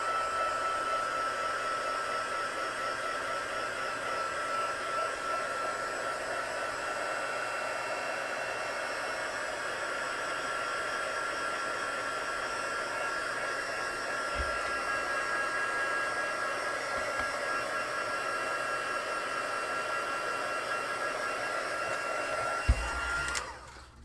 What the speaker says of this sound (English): I'm going to give that a dry.